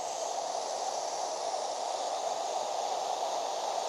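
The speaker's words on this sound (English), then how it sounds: "So this is the white noise generator, what's plugged into these headphones." White noise from a generator plugged into headphones, a steady, even hiss filling the whole clip without breaks or other sounds.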